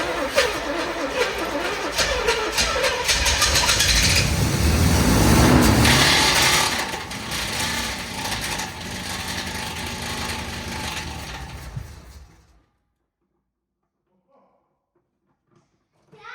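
A Camaro engine revs hard several times with rough, rising roars and mechanical rattle, loud and close, cutting out abruptly into near silence near the end.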